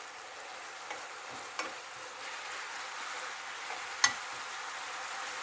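Food stir-fried in a pan over medium-high heat while its moisture cooks off, a steady soft sizzle with a few faint scraping ticks from stirring, quiet and close with no voices.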